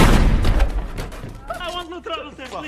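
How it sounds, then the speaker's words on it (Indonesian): Dense, loud gunfire erupts as robbers shoot the cashier during a store robbery in the film Four Brothers. The rapid blasts fade out as a voice begins speaking. "Tiba-tiba kawanan perampok datang dan menembak kasir toko."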